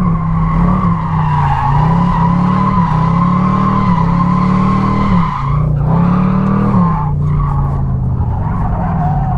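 A Camaro convertible drifts on a track, its engine roaring loud and close while the tires squeal and skid continuously, rising and falling as the car slides.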